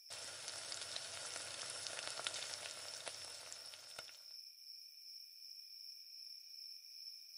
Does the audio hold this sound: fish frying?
yes